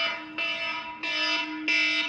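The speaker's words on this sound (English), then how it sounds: "that's my alarm to post a reel." A phone alarm goes off in three loud, evenly spaced electronic bursts, each a steady bright ringing tone, with no talking over it.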